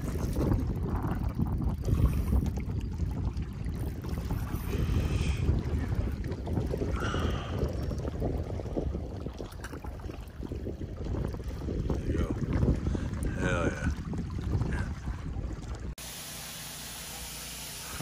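Wind gusts across the shore of Minersville Reservoir in Beaver, Utah during a trout fishing trip, a steady broadband rush buffeting the microphone close up for most of the clip before dropping to a quieter hiss near the end.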